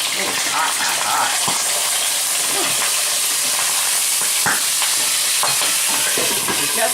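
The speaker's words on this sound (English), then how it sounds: "We're just browning it" Pork chops brown in a hot pan with a loud, dense, continuous sizzle and spatter, broken by occasional scraping and turning sounds close by.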